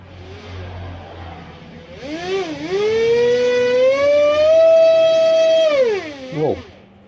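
A Mochin 1912 2500kv brushless motor on a 3S battery spins up sharply to full throttle with a high whine, holds a loud steady pitch for several seconds, then winds down with a brief wobble at the end.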